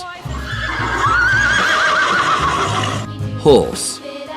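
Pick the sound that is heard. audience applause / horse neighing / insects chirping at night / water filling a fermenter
horse neighing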